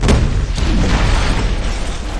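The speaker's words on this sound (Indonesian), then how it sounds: "Dan Tony pingsan terkena ledakan bom" A bomb blast from the film Iron Man (2008) erupts with a loud, deep boom that sustains as a dense roaring rumble for about two seconds before cutting off abruptly.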